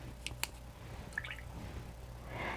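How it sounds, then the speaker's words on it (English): Water is added to a watercolor palette: a few small, quick drips and wet squishes, faint and close, over a steady low hum. "I'm going to take a little bit of water and put it in my palette."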